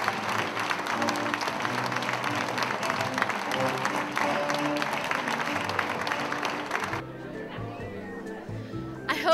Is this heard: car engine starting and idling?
no